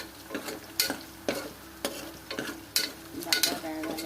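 Ingredients for Kerala kalathappam fry in a pan over a soft sizzle while a spoon stirs them, scraping the metal in quick, repeated strokes about twice a second.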